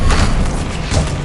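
A Bombarda explosion spell cast in Hogwarts Legacy, a short deep boom with a heavy thud lasting about a second.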